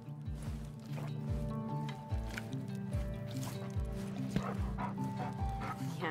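Dog barking repeatedly outdoors in Alaska, sharp woofs recurring throughout alongside yips and whimpers, with background chatter among many dogs at a sled dog kennel.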